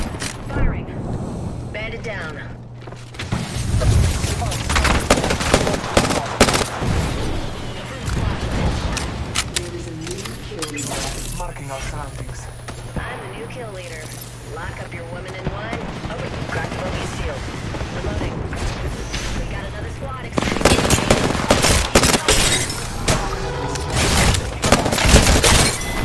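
Gunfire in a first-person shooter video game, repeated loud bursts and rapid shots with mechanical clatter, alternating with quieter stretches of gameplay sounds, while a voice talks at times.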